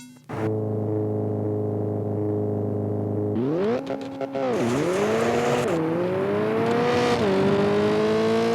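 A rally car in Richard Burns Rally oversteers under throttle and brake: a loud, steady engine drone climbs into revving and wavering pitch, with gravelly tire scrabble and skidding noise running throughout.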